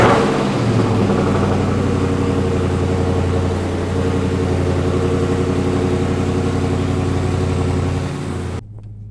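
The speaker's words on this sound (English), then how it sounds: "gotta start the video with a cold start" A Dodge Scat Pack fires up from a cold start after sitting for a few days, settling into a loud, steady, deep idle that rumbles on without a break before cutting off abruptly near the end.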